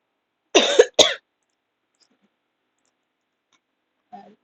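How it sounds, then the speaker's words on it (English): A lecturer with a sore throat gives a couple of quick, close, dry coughs, followed by a faint throat sound a few seconds later against otherwise silent room tone. "Sorry, I'm coughing."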